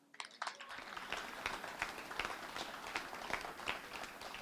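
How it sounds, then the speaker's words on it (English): Audience applause at the Who's Who Diversity in Color 2017 event, a dense, steady patter of many hands clapping that starts abruptly and carries on for several seconds at moderate level, with faint voices mixed in. "please give a warm welcome and round of applause for Theron"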